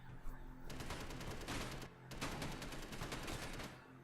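Ship-mounted gun firing in the Space Engineers video game, a rapid stream of sharp shots in two sustained bursts separated by a brief pause, loud and close.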